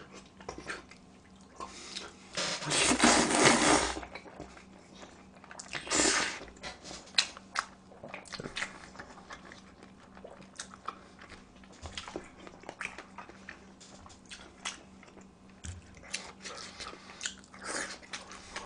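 Someone biting and chewing Korean herbal bossam pork, with a couple of loud close wet bursts of crunching followed by softer intermittent chewing and mouth sounds, without talk.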